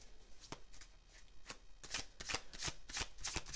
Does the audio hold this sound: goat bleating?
no